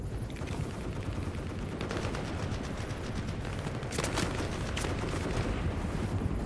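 Dense, continuous gunfire at a video game shooting range, with sharper bursts of shots near the middle, staying steady and loud throughout with no one talking.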